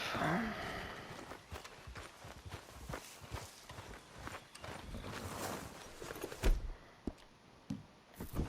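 Rhythmic horse hoofbeats in the video game Red Dead Redemption 2 clop along steadily at close range, with some thuds and scuffs mixed in.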